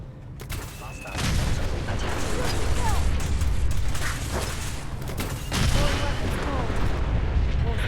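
Rapid gunfire from a turret in the video game Fallout 4, a loud sustained burst of shots lasting several seconds with a brief lull before it resumes.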